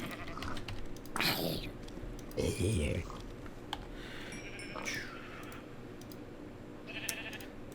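Sheep in the Minecraft video game bleat a few times, with wavering cries mixed among keyboard typing and clicks, while someone speaks briefly.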